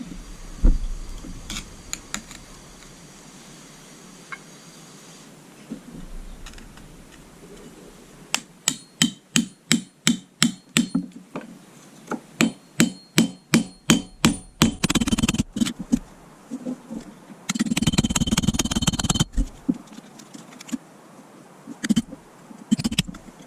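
Bursts of sharp hammer blows as a hole is widened at a canalside house, steady rapid strikes in runs with pauses between, close and fairly loud, with one stretch of harsher grinding noise.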